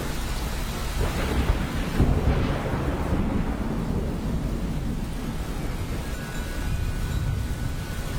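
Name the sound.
thunder and tropical rain during Singapore National Day Parade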